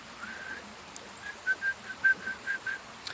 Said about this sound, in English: by whistling to them, they will come to you